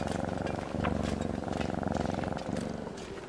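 Close, steady purring from a house cat, a low pulsing rumble that holds evenly throughout with no pauses.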